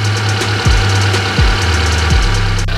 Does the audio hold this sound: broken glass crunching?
no